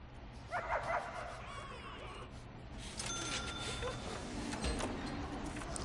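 In the Prison Architect video game, a dog gives a few short barks and yips early on, then game ambience and soft tones carry on, with some talk in the background.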